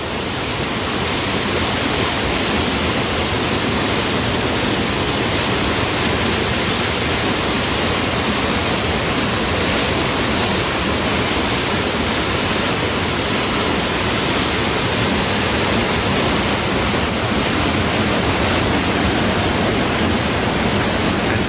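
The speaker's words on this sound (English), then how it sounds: "You can see the raging torrent let out." Loud, continuous roar of a rushing mountain torrent in the Swiss Alps near Interlaken, broadband and unbroken throughout, with no voices.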